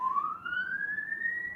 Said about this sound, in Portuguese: está passando alguma viatura aqui, ó, ou é ambulância, ou é bombeiro